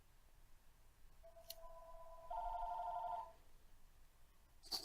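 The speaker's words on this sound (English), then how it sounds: "Oh, Kevin, pick up the phone." A telephone rings in a scene from the film Home Alone, a faint ring tone that swells briefly at mid-clip over low room noise, with no talking.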